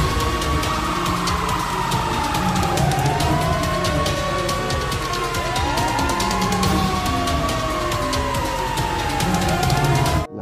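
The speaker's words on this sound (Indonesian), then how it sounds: "ini mobil pemadam kebakaran" A wailing siren sweeps up and down repeatedly over a constant buzzy electronic hum, loud and close, like a small toy fire truck.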